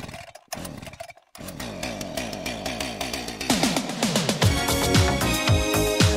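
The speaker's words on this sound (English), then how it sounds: "I found a nice chainsaw sound effect" Chainsaw for a Chainsaw Man video game, a snarling motor that revs up from short sputters into a loud, continuous buzzing roar with rising pitch, close and alone.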